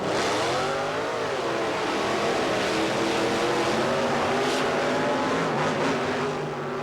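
Big monster truck engines roar and rev at a race event, loud and continuous with shifting engine pitch, a few sharp accents near the end, no talk heard.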